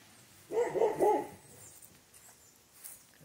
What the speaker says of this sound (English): A puppy home next door.